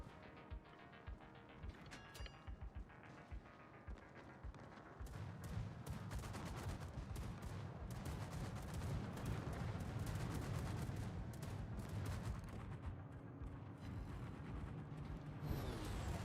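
Battleship 16-inch naval guns fire on a coastal gun in World of Warships, heavy booming shots and rumbling impacts building into a sustained dense roar after a sparser opening, fairly faint overall.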